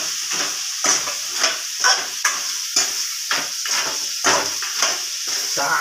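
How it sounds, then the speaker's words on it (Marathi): Crab curry masala with ground peanut is stirred and fried in a hot kadai, a sizzling hiss broken by rhythmic scraping strokes about twice a second, close and steady. "चांगला परतवून घ्यायचा, चांगला हलवून."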